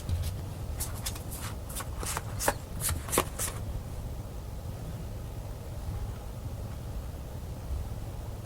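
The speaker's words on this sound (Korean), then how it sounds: "카드를 뽑아봤는데요" Tarot cards are shuffled and drawn, with a quick burst of crisp card snaps and riffles for about three seconds before a steady low hiss takes over.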